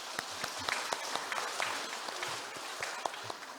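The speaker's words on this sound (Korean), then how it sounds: "교단의 미래가 되는 후진이에게 앞으로 더욱 정진촉공하기를 기원하며 격려의 큰 박수 바랍니다." Warm applause of encouragement from a congregation at a Sunday Won Buddhist service, with individual claps standing out against a steady patter of hands in a large room.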